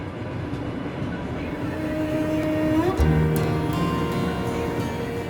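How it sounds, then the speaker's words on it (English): The Tsarangold passenger train rumbles along the rails crossing into Mongolia with a steady low roar and a few squealing tones, the sound swelling slightly midway. "The Tsarangold train crosses into Mongolia"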